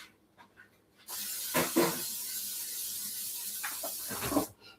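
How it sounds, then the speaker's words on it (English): A spray bottle mists water onto a hot cooking surface, setting off a sudden loud hiss that holds for about three seconds with crackling spits and then cuts off sharply, with no talk. "So now I got to spray it again and take it off"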